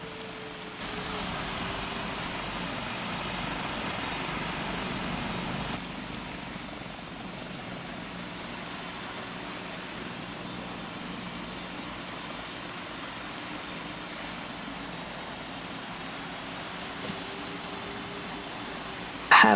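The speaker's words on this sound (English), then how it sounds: "this Emirates A380, he's just crossed the coned taxiway" A steady engine drone from an Emirates A380 taxiing in the Roblox flight simulator Pilot Training Flight Simulator, continuous and fairly loud, with a slight drop in level partway through and a short burst at the end.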